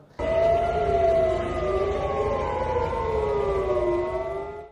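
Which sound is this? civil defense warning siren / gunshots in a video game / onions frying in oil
civil defense warning siren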